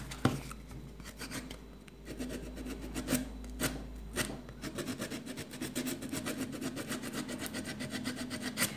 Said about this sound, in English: so I will sand in this area